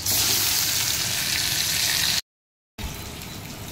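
Parboiled potatoes frying in a pan of oil while making egg biryani, a steady close hiss of sizzling that runs unbroken, drops to silence briefly, then resumes.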